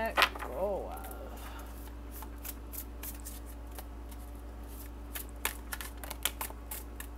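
Tarot cards are shuffled and drawn by hand, giving a steady run of soft, close papery flicks and snaps with a few sharper clicks near the end, and a brief voice early on.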